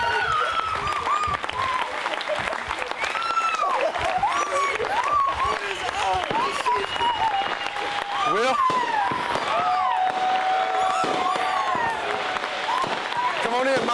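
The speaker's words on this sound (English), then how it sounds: "You can hear the fireworks going off." Fireworks popping and crackling over a crowd at the 2010 USDGC disc golf championship, with loud applause and cheering throughout and a commentator speaking over the celebration.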